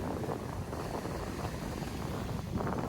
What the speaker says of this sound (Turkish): Hava da çok rüzgarlı. Tam karşıdan esiyor.